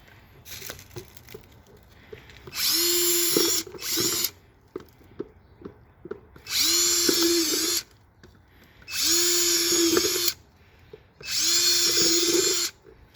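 A power drill bores drainage holes in a plant container, whirring in four loud, close bursts of about a second and a half each, separated by quieter clicks and handling knocks.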